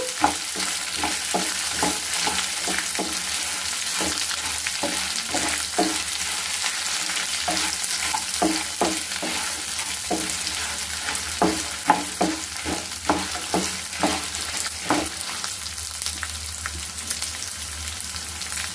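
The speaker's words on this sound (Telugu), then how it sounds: "దాంట్లోకి ఒక 10-15 అంతా ఎండుమిర్చి వేసేసుకోవాలి. వీటిని చక్కగా దోరగా వేసుకోండి." Dry red chillies roast in a hot pan for curry leaf powder, giving a steady close sizzle broken by repeated dry scraping taps of a spatula stirring, with no talk.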